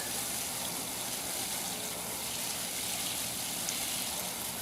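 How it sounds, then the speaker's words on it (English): Water from a tap runs steadily into a container, a close, even gushing rush that holds constant throughout with no pauses. "let's go turn off this water"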